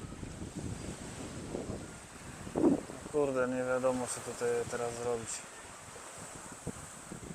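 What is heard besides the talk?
lake waves on a windy beach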